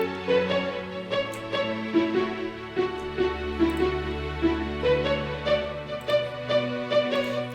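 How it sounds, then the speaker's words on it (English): A second strings layer from the Essential Strings pack in FL Studio, a future bass arrangement with rhythmic chord stabs and melodic phrases over a low sustained bass, steady and loud with no talking. "another set of strings in here that'll sound like this."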